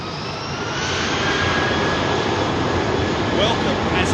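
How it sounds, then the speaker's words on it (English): A Virgin Atlantic Airbus A350 jet taxiing out at Heathrow gives a steady, loud roar of its engines, a broad continuous rumble with a thin high whine running through it, close and unbroken. "Virgin Atlantic A350 now taxiing out."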